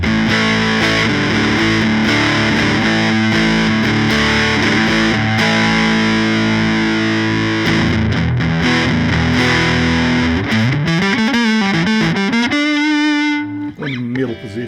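Electric guitar played through a North Carolina-built single-knob effects pedal, giving a loud, continuous distorted tone with sustained chords, then bending, sliding single notes near the end before fading.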